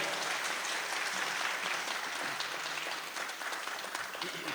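An audience claps steadily and densely throughout a Swang Kabira oratorio-style performance, a continuous moderately loud wash of applause with no talking over it.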